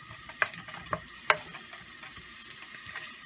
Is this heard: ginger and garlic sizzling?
yes